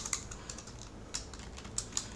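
Quiet clicks of fingers typing code on a computer keyboard, with a few sharper keystrokes spaced irregularly over a low background hiss.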